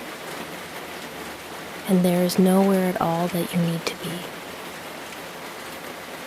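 Steady rain falls as a soft, even hiss throughout, with a calm voice speaking over it partway through.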